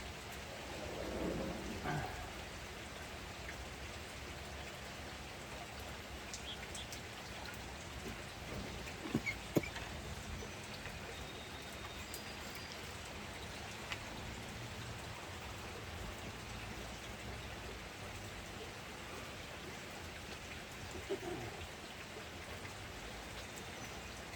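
Steady rain hisses throughout, with a few louder drops or taps standing out; no one speaks.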